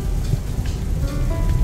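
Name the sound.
heavy rain falling on a parked car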